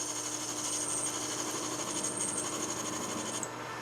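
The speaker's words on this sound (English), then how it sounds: "Just parting this guy off." Metal part being parted off on a lathe, a steady continuous high-pitched cutting whine with machine hum underneath, close and fairly loud throughout, cutting out just before the end.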